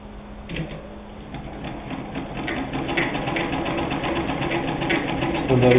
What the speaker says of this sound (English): You'll notice this is a hand crank, which means nice quiet operation, no motor noise.